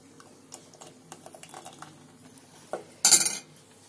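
Thick homemade condensed milk is scooped into a small container, with soft scraping and light clinks of a spoon against the vessel, ending in a louder, brief clatter near the end.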